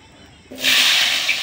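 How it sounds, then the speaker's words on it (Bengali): Potatoes drop into hot oil with turmeric for a vegetarian paneer curry, bursting into a sudden loud hiss that holds as a steady close sizzle after a brief quiet start. "আলু কড়া প্রথমে ভেজে নেব।"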